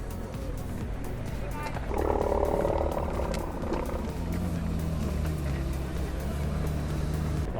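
A Lamborghini SVJ arrives in a Goodwood car park, its engine roaring loud and near for several seconds before settling into a steady rumble beneath crowd noise and faint talk.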